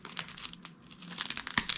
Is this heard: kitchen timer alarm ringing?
no